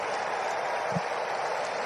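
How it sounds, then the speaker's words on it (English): A big baseball crowd at Truist Park, Braves hosting the Phillies on the night they clinch the NL East, keeps up a steady, dense roar with clapping spread through it and no single burst standing out. "Now they start to clap, trying to"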